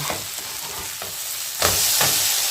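Dahi toast pan-roasting in ghee, a close steady sizzle with a few stirring scrapes, swelling louder in the second half, no talking.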